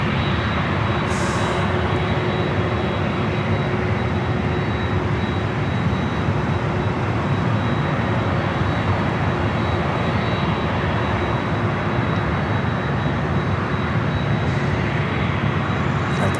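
An American Airlines Boeing 737 at LAX on runway 24 left, with a loud, steady jet engine roar that holds unbroken throughout.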